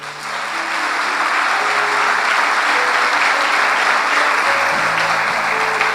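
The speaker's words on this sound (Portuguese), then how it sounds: "Então dá mais um aplauso a Ele." A church congregation at a consecration service claps loudly and steadily, a thick wash of applause over faint sustained organ or keyboard notes beneath.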